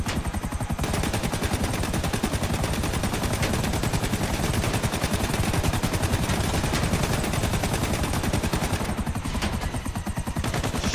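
Loud automatic gunfire aimed at a helicopter in GTA Online, a rapid, unbroken stream of shots lasting around ten seconds, with a rotor drone beneath the firing.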